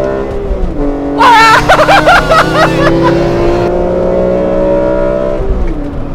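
A BMW M3 E92 GTS launches hard from a race start, its engine revving up loud and close with a rising whine and rapid bursts before settling into a steady drone.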